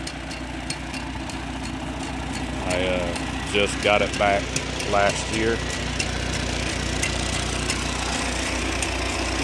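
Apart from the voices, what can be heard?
1952 Farmall Cub tractor engine idling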